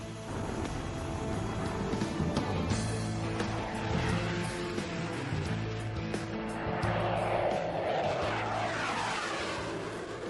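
An F-18 fighter jet running through flight maneuvers in the sky, a loud continuous engine roar that swells and sweeps in pitch without a break.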